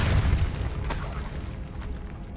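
A Depulso spell cast in Hogwarts Legacy lands as a deep booming burst with a sharp crack, then a rumbling tail that slowly fades, with no talking.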